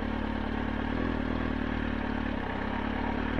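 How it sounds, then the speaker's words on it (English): A motorcycle idling along at slow speed while the rider feathers the clutch in and out, a steady low engine drone with light mechanical clatter, close and even throughout. "Practice at slow speeds, just feathering the clutch in and out."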